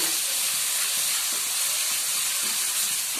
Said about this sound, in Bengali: এবারে এটা কড়াতে দিয়ে একটু নাড়াচাড়া করবো এটাকে আমি একটু ভেজে নিচ্ছি